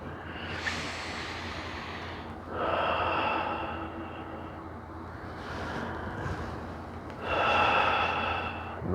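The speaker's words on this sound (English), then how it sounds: "Nice deep breath" Slow deep breaths during a qigong session, several long airy inhales and exhales, close and fairly soft, with no talking.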